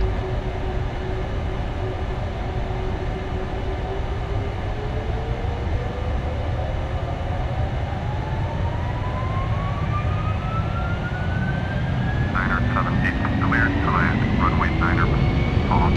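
Jet engines of a PMDG 747-400 roar at takeoff power in the Flight Simulator X game, a loud continuous whine rising steadily in pitch as the aircraft accelerates down the runway, with a short burst of chatter near the end.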